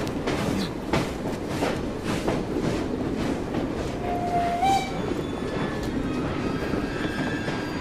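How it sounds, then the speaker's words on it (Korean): A moving steam-era train in the Assassin's Creed Syndicate video game rumbles loudly and continuously with rhythmic clattering, and a brief whistle-like tone sounds about midway through. "기차 더럽게 느려."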